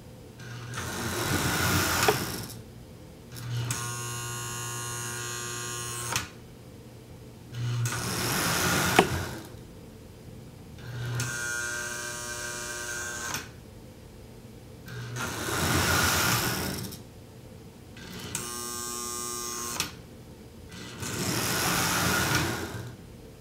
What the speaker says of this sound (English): let's run a Lionel engine containing a three-position E-unit